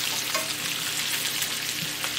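Fish vindai with green chilies frying in a pan and being stirred together, a loud, dense, continuous sizzle with faint scraping throughout.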